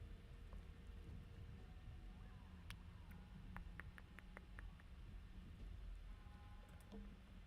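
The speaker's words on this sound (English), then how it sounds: "Oh, it's raining." Rain falling steadily inside the Tangle Tower video game, a constant soft hiss with scattered light ticks and drips over it, alongside faint tonal game music.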